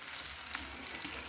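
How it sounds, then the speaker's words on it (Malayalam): Fish fries in a pan with a faint, continuous crackling sizzle and no voices. "അതേപോലെ നമ്മുടെ മീൻ പൊരിക്കുന്നുണ്ട്"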